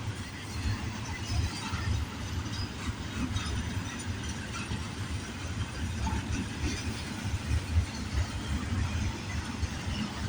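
A freight train rolls past in Canada with a steady, dense rumble and faint clatter of cars, continuous and fairly loud for the whole stretch, no voices.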